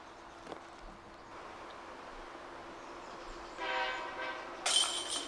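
A train passes near an outdoor disc golf course, a low rumble that grows into a louder rolling roar and ends with a sharp, bright horn blast, with no voices.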